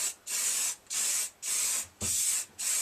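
Spray paint goes on as a thick final coat in five or six evenly spaced bursts of loud, close hissing, each about half a second long, separated by short silences.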